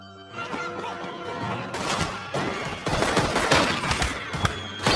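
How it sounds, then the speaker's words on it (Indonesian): Gunfire in a shootout with police from the 2012 Jason Statham action film Safe: loud, dense bursts of shots and crashing impacts over a tense music score, intensifying toward the end. "Sedangkan kelompok Kuan kini harus baku tembak dengan polisi untuk membawa Mei."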